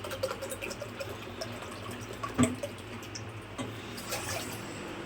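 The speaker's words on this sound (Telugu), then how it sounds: "కొంచెం పెద్ద బౌల్ తీసుకొని దీంట్లో ఒక గ్లాస్ వాటర్ యాడ్ చేసుకోండి" A glass of water poured into a large bowl, a soft close trickle and splash with a brief louder splash midway, faint and alone.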